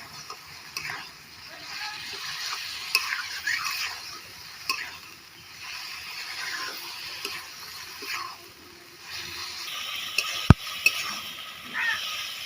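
Spices and yogurt fry in a pan for a soybean curry with a steady low sizzle, interrupted by scattered spoon taps and a couple of sharp clicks, with faint speech in the background.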